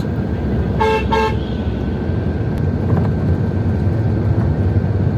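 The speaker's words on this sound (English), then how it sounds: "And here is another truck." A truck passes on a wet road between Karachi and Rawalpindi amid constant traffic rumble, sounding two quick, loud horn blasts near the start before the noise rolls on alone.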